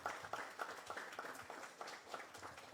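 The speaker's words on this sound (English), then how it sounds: "And we should applaud them." Crowd applause at a community meeting with Guyana's president in Santa Aratack, honoring forestry workers; a steady wash of many hands clapping at moderate distance, continuous throughout with slight swells.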